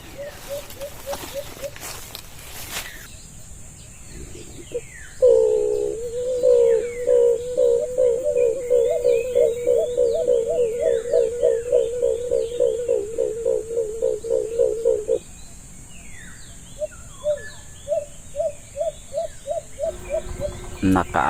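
Loud, rapid repeated bird calls from a tree, a long steady run of chirps with shorter bursts before and after, close and alone over faint background.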